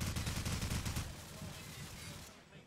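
A rapid burst of automatic gunfire in Call of Duty 4 rattles for about a second, then fades into a lingering rumble and distant noise.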